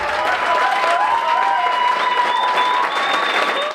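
A crowd at a Tucson City Council meeting bursts into loud, sustained applause and cheering after a unanimous vote, dense clapping with whoops rising over it and easing slightly toward the end.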